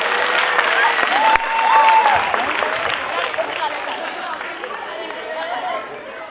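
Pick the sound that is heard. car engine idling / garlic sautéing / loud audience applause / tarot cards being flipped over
loud audience applause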